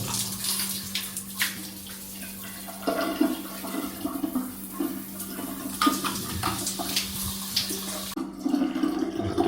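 A bathroom shower with hot and cold taps runs steadily, water splashing and draining in a continuous wash that swells and shifts slightly as the flow hits surfaces, close and fairly loud throughout.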